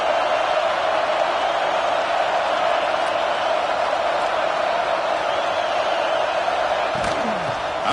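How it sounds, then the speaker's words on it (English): Home crowd roaring steadily throughout at a Notre Dame versus Michigan college football game, a dense, loud wash of cheering with a brief whoop or shout near the end. "this home crowd is fired up and ready to make a difference"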